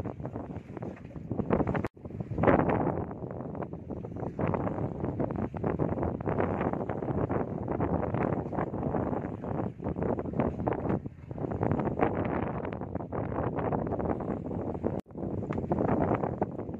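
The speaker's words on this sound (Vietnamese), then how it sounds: "Mấy con sóng gió lắc quá trời này mày" Strong wind and waves rock a boat at sea, producing a constant loud roar of wind buffeting the microphone with surging, uneven swells and a couple of sharp knocks.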